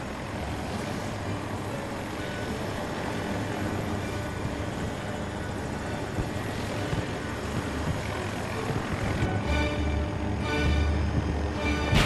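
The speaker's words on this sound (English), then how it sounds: "I don't think I ever stayed alive this long in a chopper." A helicopter flies in a multiplayer video game, its rotor and engine giving a loud, steady, continuous drone that holds throughout, with a few sharp game sounds near the end.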